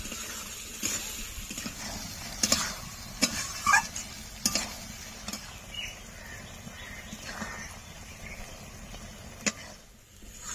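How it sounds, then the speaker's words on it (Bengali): Fried potatoes are stirred with meat in a pan for mutton ghugni, a spatula scraping and tapping in scattered strokes over a low background, close by. "এখন দিয়ে দেবো ভেজে রাখা আলু। আলু দিয়ে কিছুক্ষণ কষে নেব।"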